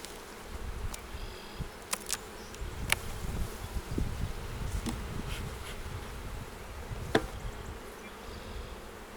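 Steady low insect buzzing from many honey bees at a hive being inspected, continuous and close, with a few sharper clicks and taps scattered throughout.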